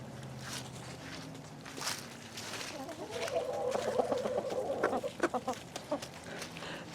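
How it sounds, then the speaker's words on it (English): Chickens clucking nearby in a loose, busy chorus that grows louder midway, with quieter background noise around them. "So the chickens are definitely happy."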